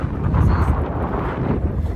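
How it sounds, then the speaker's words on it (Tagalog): Strong gusty wind buffets the microphone with a constant low roar throughout, nearby and loud. "sobrang lakas ng hangin"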